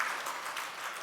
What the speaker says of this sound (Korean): 박수 한번 하시겠습니다